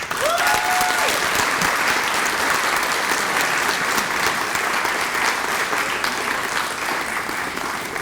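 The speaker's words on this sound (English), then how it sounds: "Let's give him another round of applause." A large audience at an LPN pinning ceremony gives sustained applause, a dense, even wash of clapping that stays loud and unbroken for the whole stretch, with a brief tone near the start.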